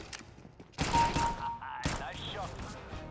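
Gunfire from a first-person shooter game, CS:GO or Valorant, lands as a loud close burst of shots followed by a second sharp burst, with voices talking over and between them.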